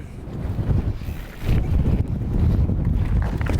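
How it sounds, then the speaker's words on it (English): Wind rushes across the microphone outdoors on a first ride on a new bike, a loud, steady low buffeting roar that swells around the midpoint and keeps going, with no voices. "It's quite a bit of wind in the air"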